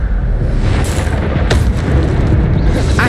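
An Incendio fire spell in Hogwarts Legacy erupts as a loud, continuous blast with a bright whooshing burst, sustained fiery rumble filling the whole moment without any talking.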